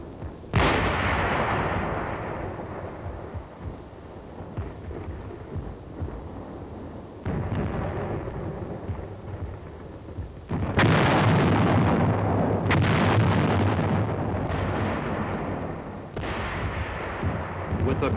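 Heavy 4.2-inch mortar shells fall in a continuous bombardment on a Korean War hill in 1951, with loud booming blasts and rumbling, one after another, in old newsreel footage.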